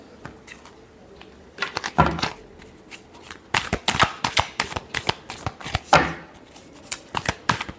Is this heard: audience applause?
no